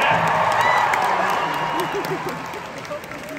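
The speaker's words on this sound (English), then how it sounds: "what about the crowd? Come on, everybody." Spectators at the London International Horse Show applaud and cheer in a big arena. Loud massed clapping and whoops fade over a few seconds while a voice speaks underneath.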